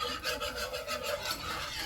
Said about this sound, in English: I think a whisk works the best as far as breaking up those lumps